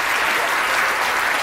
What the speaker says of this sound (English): So give them all a round of applause, please.